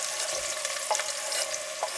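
Chopped onions hit hot oil with cumin seeds and a bay leaf, a steady bright sizzle with a few soft stirring scrapes, heard close and alone.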